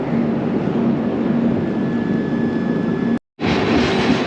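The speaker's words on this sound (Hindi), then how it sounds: "और ये आ रही है भाई अवध असम एक्सप्रेस, जो कि आज सुबह मॉर्निंग में चली थी डिब्रूगढ़ से" The Avadh Assam Express, having left Dibrugarh that morning, arrives at Simalguri Junction as a continuous close rumble with a faint whine, cutting out briefly before resuming.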